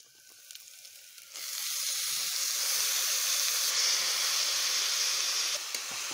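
Palak and siru keerai greens tipped into a hot pan for a spinach biryani, bursting into a loud, steady, close hiss of sizzling and steam that holds without letup.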